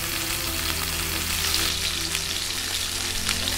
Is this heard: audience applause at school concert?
no